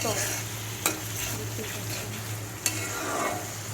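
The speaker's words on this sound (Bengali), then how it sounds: "এখন নাড়াচাড়া করে কষিয়ে নিতে হবে চিংড়ি মাছ" Shrimp with dried chili powder frying in a pan while being stirred, a continuous close sizzle broken by two brief clinks of the utensil against the pan, with no voices.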